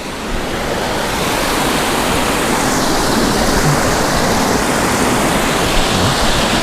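Water gushes steadily from a modified pump lifting river water up to a koi pond, a loud, continuous broadband rush with no pauses and no talk.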